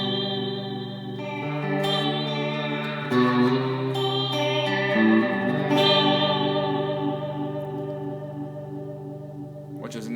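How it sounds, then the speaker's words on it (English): Sustained, swirling electric guitar notes shimmer with chorus modulation and washy spring reverb from an Eventide Space pedal, chords shifting slowly before fading out. "The FX mix adds some cool like chorusy"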